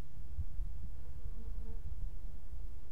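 Honeybees buzzing at the entrance of a hive as foragers fly out and return carrying pollen, a steady, soft, close insect hum with no talking.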